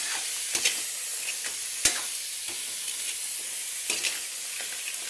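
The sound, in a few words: sautéing crab with ginger in a pan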